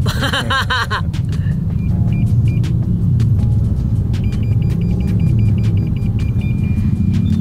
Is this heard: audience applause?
no